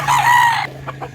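A rooster crows loudly and close for just over half a second, followed by a few short clucks from chickens at a farm.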